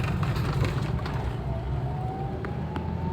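Toyota Avanza with Blackcore tuning pulling hard in second gear, heard from inside the cabin as a steady, loud engine drone with a whine that climbs gradually in pitch as the revs rise; no one speaks.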